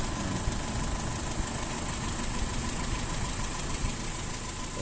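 A Toyota Kijang with the 5K engine idling after its vacuum hoses were rearranged, a steady mid-pitched hum with a faint rhythmic knock, even and continuous throughout with no talking.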